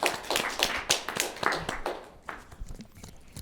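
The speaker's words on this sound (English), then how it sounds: "Give them a big round of applause." An audience applauds at a workshop session, a burst of close, sharp claps that thins out and grows sparser over a few seconds.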